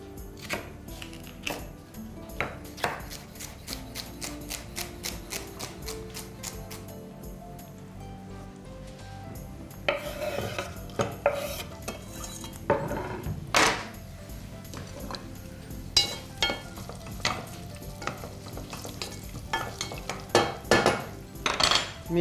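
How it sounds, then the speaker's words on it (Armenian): Onion and celery stalk being sautéed in a pan while cooking pumpkin purée soup, with repeated clinks and scrapes of a utensil against the pan over a steady low sizzle, growing busier and louder toward the end. "Սոխ հետ միասին կտապակեմ նաև նեխուրի ցողուն։"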